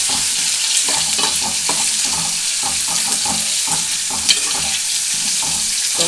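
Drumstick pieces and onion are sautéed in oil in a pan, with a steady sizzle and frying hiss and repeated stirring scrapes, close up and with no talk.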